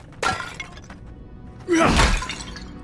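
Clay pots shatter in the fantasy video game Avowed: a brief breaking crack, then a louder, longer crash of smashing pottery, close and clear with a faint voice barely present.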